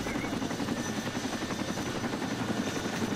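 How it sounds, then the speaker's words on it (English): Helicopter in the military video game Arma 2, a loud, steady rotor thrum that continues without break throughout, close and unaccompanied by speech. "I don't think he's gonna land the helicopter, Beagle."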